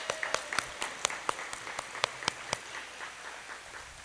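Meeting attendees at a breakfast gathering clap in scattered, uneven bursts for birthdays and anniversaries, a thin, fairly quiet patter of individual claps that thins out toward the end.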